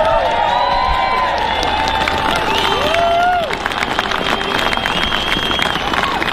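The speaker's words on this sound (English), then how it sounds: "another big round of applause for Jess Sharp there" A crowd at a farmer protest in London claps and cheers outdoors, with whistles and shouts rising over sustained loud applause.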